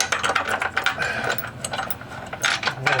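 A ratchet spins shackle relocation bracket bolts into place on a 1998 Jeep, giving rapid, continuous close clicking in uneven bursts, fairly loud and without speech.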